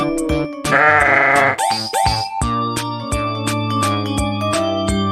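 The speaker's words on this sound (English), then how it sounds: "I am sheep." A sheep lets out a loud, quavering bleat over cheerful, rhythmic background music with plucked notes.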